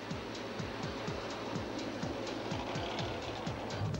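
A Blackpool tram runs along the promenade, its wheels clicking rhythmically over rail joints in a steady repeating pattern beneath a continuous low rumble, heard from on board at moderate level.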